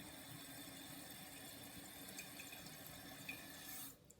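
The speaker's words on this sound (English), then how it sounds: "So I just flushed again to see if the water level would come up to the right size or the right spot on the overflow tube after we reset it." A toilet tank refills after a flush through a newly installed Fluidmaster fill valve, giving a steady rushing hiss of running water that cuts off abruptly near the end, leaving quiet.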